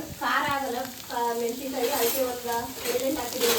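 Onions, green chillies and leafy greens fry in a pan with a steady sizzle and some stirring, while a voice speaks over the cooking.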